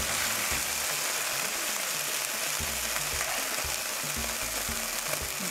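Veal scallopini browning in a hot pan, a loud steady sizzle and hiss with faint low scraping throughout, no talking.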